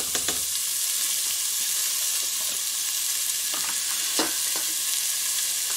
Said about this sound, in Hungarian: És akkor beleteszem a hagymákat, poréhagyma.